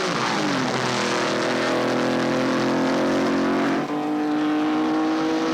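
1960s race cars roaring away at the start of a race led by Moss, Brabham and Bruce McLaren, a dense loud blare of engines accelerating hard, pitch climbing steadily, with one shifting briefly near the end.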